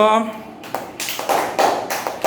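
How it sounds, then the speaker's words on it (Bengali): Children in a primary school classroom clap their hands in a burst of quick, irregular claps that follow a brief spoken voice at the start. "ওর জন্য একটা জোরে করে হাততালি দাও তো"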